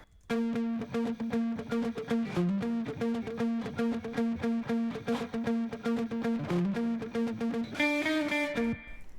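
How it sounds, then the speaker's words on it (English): A muted, palm-picked electric guitar plays a steady run of short, clipped notes in a song, close and even, with a brighter sustained tone coming in near the end. "I've also added this muted picking guitar"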